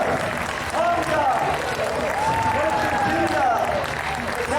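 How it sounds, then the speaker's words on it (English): Live audience applause for the cast of the Castle Vlad stage show, a steady dense wash of clapping throughout with crowd noise and a voice over it. "How about a round of applause for Vlad's cast?"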